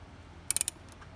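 A torque wrench ratchets on engine bolts near the oil plug during a thread repair, giving four quick sharp clicks close together, then a faint pair of softer clicks over a quiet background.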